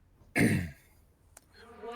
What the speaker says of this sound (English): Get ready, clear your throat.